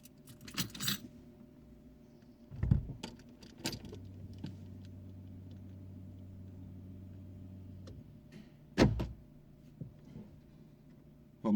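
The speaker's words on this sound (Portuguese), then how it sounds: "Vou abrir o portão da rua." Keys jangle and a metal street gate is worked open at a home garage, with sharp clinks and knocks between quieter stretches, a low car idle humming steadily beneath.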